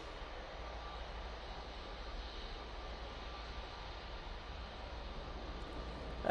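A plane near Manchester Airport gives a faint, steady distant engine rumble under broadband wind-like noise, with no voices.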